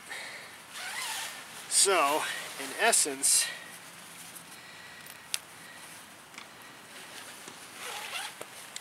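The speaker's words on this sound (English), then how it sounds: "it has a full-length zip" The full-length zip of a Sea To Summit Micro II sleeping bag is pulled in a few short strokes, close and raspy, while a person speaks.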